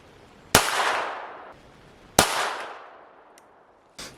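Two loud pistol shots from a handgun fitted with a red dot sight, fired at a target 25 meters away, ring out seconds apart, each with a long echoing tail, and a third sharp crack follows at the end.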